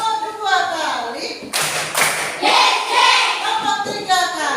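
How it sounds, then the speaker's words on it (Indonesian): A fifth-grade class claps together on the teacher's count, a couple of sharp, loud group claps punctuating her continuous speaking voice in a classroom. "mari kita melakukan tepuk bersama ya. Tepuk 1 kali,"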